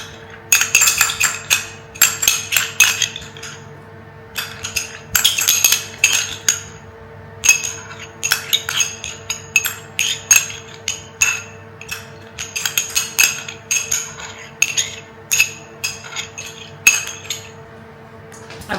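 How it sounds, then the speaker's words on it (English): Eggs and Greek yogurt whisked in a jug, a metal whisk clinking and rattling rapidly against the sides in repeated bursts separated by short pauses, loud and close with no talking. "And whisk that in nicely too."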